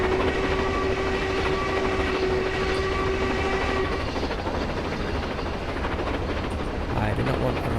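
A train runs in a computer train simulator game, a continuous, loud rumble of wheels and engine with a steady tonal whine for the first half, then a rougher clatter, with no pauses throughout.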